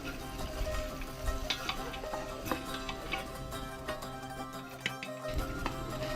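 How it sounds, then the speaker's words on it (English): Chopped red onions caramelize in melted lardo fat for an Egri beef stew cooked over a fire, giving a steady close sizzle with faint ticking and stirring clatter throughout, and no talk. "put the chopped red onions on it, and we're gonna caramelize it"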